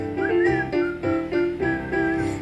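Whistled melody from a performer in a high school stage adaptation of Snow White, a bright tune carried over steady backing music, with phrases rising and falling in a clear, continuous rhythm.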